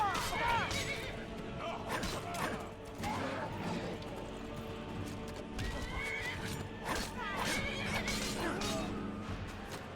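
A horse whinnies several times amid hoofbeats and clattering effects in Skyrim, with a voice talking over the busy game-like soundscape.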